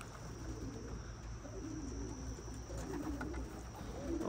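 Racing pigeons coo softly around the loft, a low steady murmur of several birds at moderate distance with faint chirps, no talking.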